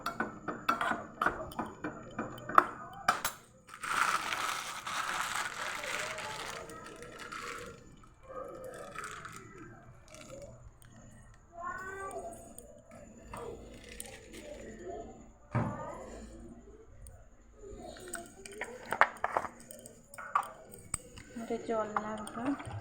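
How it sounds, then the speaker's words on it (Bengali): A spoon stirs a pot of Maggi noodles, making scattered soft clinks and scrapes of metal on the pan. A wet, squishy sound of moving noodles sits under someone talking. "চামচ নিয়ে নিচ্ছি, একটু নাড়িয়ে নেবো।"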